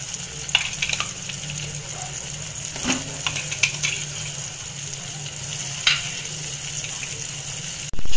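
Masala sizzling and frying in a pan for pepper denji sukka (crab), a steady close crackle with a few stirring scrapes, no voices over it.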